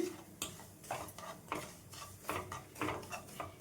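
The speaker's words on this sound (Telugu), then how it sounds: "మంచిగా కలుపుకుంటూ వేయించుకోవాలి ఇందులోనే ఎండు కొబ్బరిని కూడా వేసేసుకుందాం అండి" Milk powder and dried coconut being stirred and roasted in a pan on low flame, a spoon scraping the pan in a steady run of short strokes, close and fairly quiet, with no talk.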